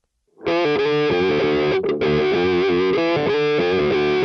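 An electric guitar plays loud sustained notes and short runs through a wah pedal, alone and up close with no voices.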